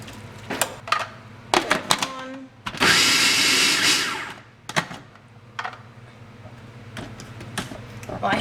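A food processor on its lowest speed chops cabbage and carrot for coleslaw, a loud whirring burst of about a second, with chopping and knocking before and after and a voice talking nearby.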